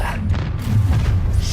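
An Incendio fire spell in Hogwarts Legacy bursts out as a loud, deep whooshing boom with rumbling thuds, a short, dense blast of combat noise with no clear speech.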